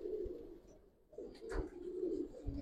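Giribaz pigeon of the palla line cooing up close in a loft, low throaty coos in two soft phrases separated by a brief pause, with faint rustles.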